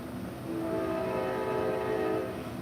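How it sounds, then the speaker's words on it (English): A train passes nearby, its horn sounding a steady sustained blast over low rumbling, loud and unbroken for a couple of seconds with no talk. "sorry about the train, there's lots of trains around here."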